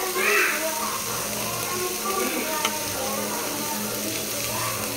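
Onions and curry leaves sizzle in a hot pan during night cooking, a steady soft frying hiss with occasional stirring clinks, heard under someone talking.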